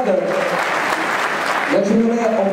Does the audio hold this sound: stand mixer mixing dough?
no